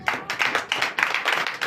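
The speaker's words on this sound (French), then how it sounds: "Donnez l'acclamation à notre Seigneur Jésus." Brief burst of congregational clapping at a Sunday church service in Benin, many hands applauding together in a fast, even patter, fairly close and loud, with no voices over it.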